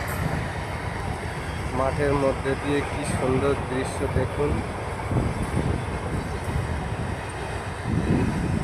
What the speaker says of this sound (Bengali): দেখুন এই যে ট্রেন গাড়ি চলে যাচ্ছে।